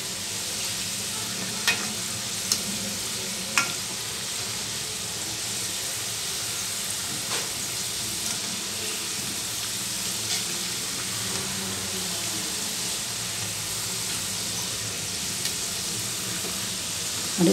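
Shankar poli dough frying in hot oil over a medium flame, a steady soft sizzle and bubbling with a few faint clicks of stirring, continuous and close throughout with no talking.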